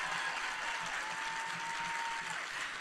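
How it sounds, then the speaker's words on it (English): Audience applause at a Pax East 2022 gaming convention panel, a steady wash of clapping throughout with a brief tone running beneath it. "Applaud, applaud."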